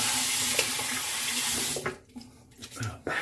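Tap water running steadily into a sink while rinsing off after a shave, a loud continuous splash that cuts off partway and then gives way to a few softer drips and handling sounds.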